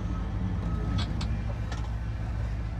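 A 1990 Ford Super Duty flatbed truck with a dump bed backs up, its engine a steady low idle rumble close by, with a few faint high beeps of a reversing alarm sounding over it.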